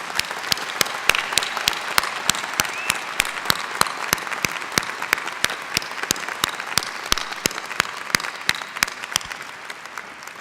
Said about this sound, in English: Please join me, everyone, in applauding the achievements of these doctoral candidates